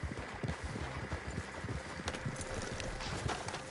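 Horses' hooves clip-clop in Red Dead Redemption 2, a steady irregular patter of several animals walking close by over a constant outdoor wind and ambient background.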